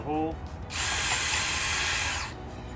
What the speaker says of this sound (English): Pre-drill the hole.